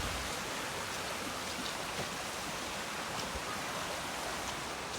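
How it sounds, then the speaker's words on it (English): A small waterfall feeding a stream on a countryside walk, water rushing and splashing steadily close by as a dense, even roar that fills the whole clip with no voices. "There is a little waterfall."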